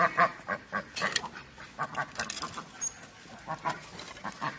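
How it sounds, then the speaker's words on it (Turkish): Ducks quack repeatedly in quick, uneven bursts, fairly close by, with no other prominent sounds. "Ördek, ördek yatıyor, yatıyor, yatıyor."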